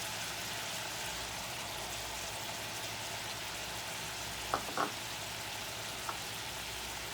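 Onions and minced garlic fry in a pan with a steady, even hiss and sizzle and a few light pops, while a voice speaks briefly over the cooking.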